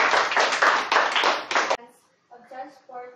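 A short burst of clapping from a small group, a handful of hands in rapid rhythm that stops abruptly and gives way to a voice speaking.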